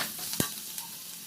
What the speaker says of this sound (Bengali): রসুনটা একটু ভাজা ভাজা হওয়ার পর দিয়ে দিলাম আমি একটা পেঁয়াজ কুচানো পেঁয়াজ